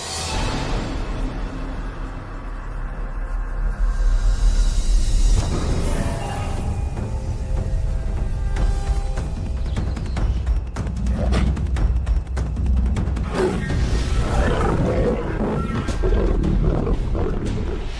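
Wild lions roar and snarl during a fight between rival males, loud and close, with heavy growls and thumps running throughout.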